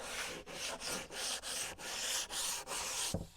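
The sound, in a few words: sanding edge of end-grain wooden cutting board with 120 sandpaper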